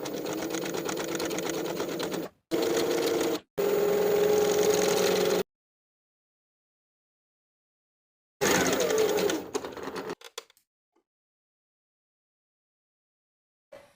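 A sewing machine stitches bias tape onto a linen dress in several loud, close runs separated by short stops, then a final burst before quiet.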